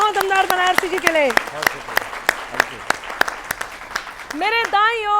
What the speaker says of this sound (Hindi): जोरदार तालियां हो दमदार बनारसी जी के लिए